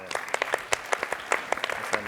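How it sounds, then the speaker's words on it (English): A seminar audience gives a round of applause, with scattered individual claps rather than a dense roar, moderately close and fairly steady over two seconds. "you give a big round of applause"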